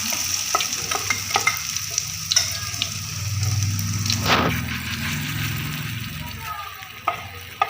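Moringa-leaf vada fry in hot oil with a steady close sizzle, accompanied by scraping and stirring taps from a utensil in the pan.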